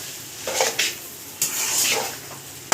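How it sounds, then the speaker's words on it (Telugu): Egg rice is turned in a cooking pan with a few scraping, clinking strokes of a spoon against metal over a faint sizzle, close and with no one talking. "ఇలా తిప్పేసుకున్నామండి."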